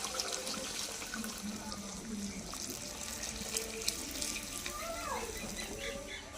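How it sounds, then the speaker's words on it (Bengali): Hot water poured into browned mutton curry, a continuous pouring and splashing rush that holds steady throughout, close and moderately loud with faint clinks beneath. "পরিমাণ মতন গরম জল ঢেলে দিচ্ছি"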